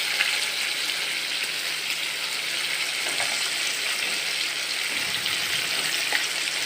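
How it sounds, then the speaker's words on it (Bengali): Fish pieces frying in a wok of oil, a loud close sizzle that hisses evenly throughout with faint occasional pops and a brief low stir near the end. "দেখুন কি সুন্দরভাবে আমি মাছগুলো ভেজে নিচ্ছি"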